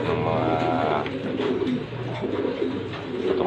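Pigeons coo steadily in a loft, soft overlapping low calls from several birds filling the space, close by, with no talk.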